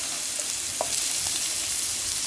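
Pan-fried tofu hits a pan of garlic and sizzles steadily, with faint stirring and a few light scrapes, for a Korean braised tofu side dish.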